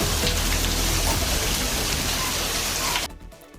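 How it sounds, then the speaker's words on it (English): Hail and rain pounding down during a severe thunderstorm in Chatsworth, a dense, loud, continuous hiss and patter that cuts off abruptly near the end, leaving faint quiet. "Hail falling in Chatsworth isn't the only activity we're following right now."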